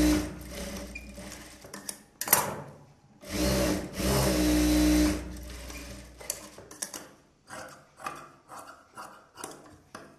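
A sewing machine stitches a blouse in bursts, with short whirring runs separated by pauses and a longer sustained run in the middle. It sounds close and loud.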